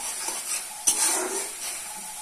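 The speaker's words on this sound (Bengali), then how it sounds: "ভালো করে কষে নিতে হবে।" Spiced mixture of turmeric, chili, cumin and salt being stirred and fried in a pan, with a soft sizzle under scraping utensil strokes and one sharp clink near the start, close and fairly quiet.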